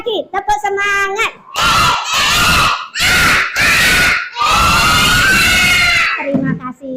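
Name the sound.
children doing the tepuk semangat clapping chant again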